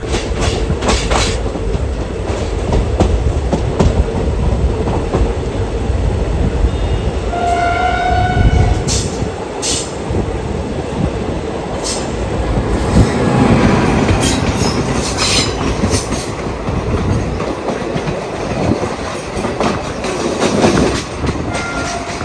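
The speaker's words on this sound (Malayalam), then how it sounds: "ഓൾഡ് ഡൽഹിയിൽ നിന്ന് റേവാടി വരെ പോകുന്നൊരു പാസഞ്ചർ ട്രെയിനാണ് ഈ പോകുന്നത്" A passenger train from Old Delhi to Rewari rumbles past nearby with clattering wheels, a brief horn and some squealing, continuous for the whole stretch.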